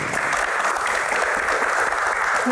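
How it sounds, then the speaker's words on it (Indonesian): A studio audience on an Indonesian talk show claps together in a dense, even burst that fills the short stretch, close and loud with no one speaking. "tepuk tangan"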